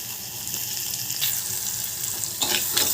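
Mustard seeds, curry leaves, sliced onions and green chilies frying in hot oil for a drumstick curry, a steady close sizzle with a few brighter crackling bursts near the end and no talk.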